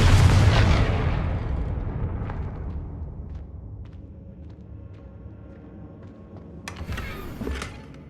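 In the video game Hogwarts Legacy, the Confringo fire spell lands as a heavy booming blast that rumbles and fades over several seconds, followed by a smaller crackling burst near the end.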